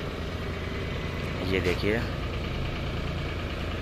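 A 2016 Sonalika DI 35 tractor idles steadily at a tractor market in Fatehabad, a close, even engine rumble that runs throughout, with someone speaking briefly over it.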